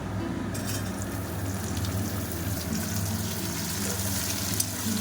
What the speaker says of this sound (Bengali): তো এখানে আমি এরপরে কেটে রাখা পেঁয়াজগুলো দিয়ে দেব।